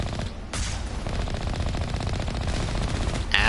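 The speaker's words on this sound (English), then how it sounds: "Oh shit, turrets." Turret gunfire in the video game Mass Effect, with continuous rapid automatic bursts rattling loudly throughout and a sharper blast near the end.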